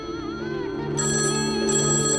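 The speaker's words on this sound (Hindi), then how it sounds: "फोन उठा ले, कब से बज रहा है?" A telephone rings insistently in a home scene from a Hindi TV drama, a steady electronic ring tone heard clearly and alone, holding without a break and growing brighter partway through.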